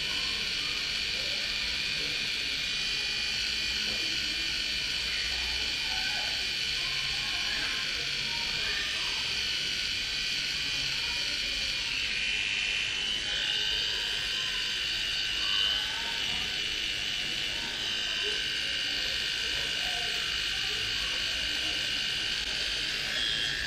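A small electric eyebrow trimmer hums steadily at close range for the whole stretch as eyebrows are shaped with its wider head, its buzz wavering slightly in pitch with a faint voice underneath.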